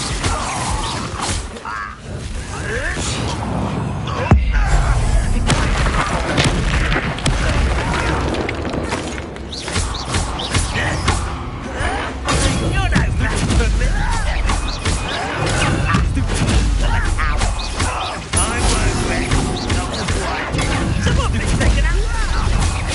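An Incendio fire spell is cast in Hogwarts Legacy, played on hard mode, bursting into loud crashing, booming impacts amid dense game effects and music that run continuously throughout.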